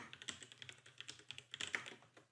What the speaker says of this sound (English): This is why I don't type normally in videos.